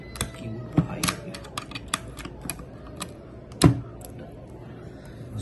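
Typing on a Redragon Brahma K586 mechanical keyboard with red switches: a steady run of light, quick keystroke clicks with a couple of heavier thocks, close by and without any talk.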